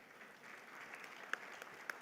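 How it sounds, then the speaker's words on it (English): Distant applause from a conference audience for a panel, a steady faint patter of clapping with a couple of sharper individual claps standing out. "could we please give our panel a round of applause"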